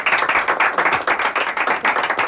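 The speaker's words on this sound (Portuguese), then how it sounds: "Palmas para André Barros." Clapping for André Barros, loud, close, rhythmic hand claps in a steady even beat throughout, with no talking over them.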